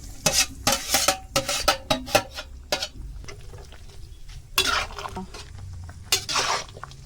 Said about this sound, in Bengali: ওরকম কুমড়াটা সিদ্ধ হওয়ার পরে এখন যে সয়াবিনটা এখন দিয়ে দিব